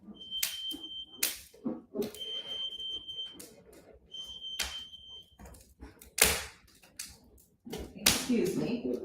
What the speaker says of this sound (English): I have no idea what that beeping is.